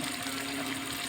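Water pumped out in a steady, continuous gushing rush with a low mechanical hum beneath, close and unbroken throughout.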